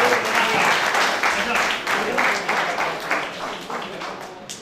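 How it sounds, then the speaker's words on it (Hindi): Applause from a crowd at a company achievers' celebration in Pipariya, India, a continuous roomy patter of many hands, loud and slowly fading, with voices talking over it. "इनके लिए तालियां बजाइए, बहुत शानदार, जबरदस्त"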